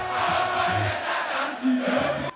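Large crowd thronging Manchagbona Park in Jamestown awaiting a concert at night, a steady dense roar of many voices with shouts and chanting, loud and continuous throughout.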